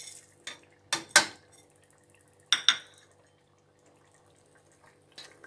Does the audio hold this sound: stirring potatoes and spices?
yes